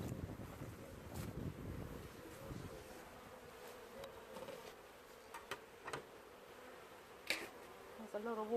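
Wasps buzz close by around a beehive, coming and going in faint whines over soft wind noise, with a few sharp knocks toward the end.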